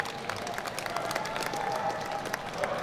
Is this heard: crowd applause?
yes